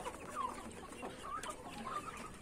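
Penned roosters cluck in a coop before being given worm medicine, with soft, scattered clucks spread over steady low background noise.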